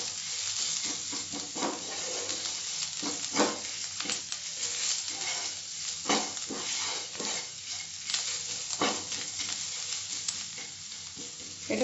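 Slit green chillies sauté in hot oil in a pan, a steady sizzle broken by repeated scraping stirs, close and continuous with no voices.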